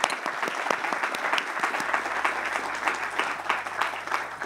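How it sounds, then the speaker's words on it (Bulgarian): Audience at a Bulgarian young athlete of the year award ceremony breaks into sustained applause, dense steady clapping from a large crowd with no talk over it. "нека наградим с няколко секунди аплодисменти всички тези"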